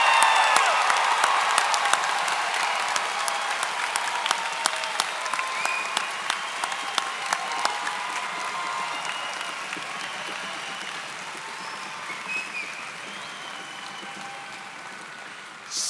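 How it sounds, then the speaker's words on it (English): Audience applause for a graduating class of 2025 at a high school graduation ceremony, sustained clapping with a few whoops, strong at first and gradually fading over about sixteen seconds. "give the class of 2025 a round of applause"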